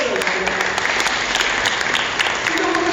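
Audience applause at a Korean community lecture on unification in New Malden, England, a steady dense clapping filling the room for about three seconds without a break.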